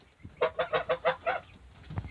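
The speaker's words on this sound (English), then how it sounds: "there's our 1 goose we have left out of 2." A lone goose on a farm gives a quick run of about six evenly spaced honks, fairly close and moderately loud, with faint background noise and short low thumps afterward.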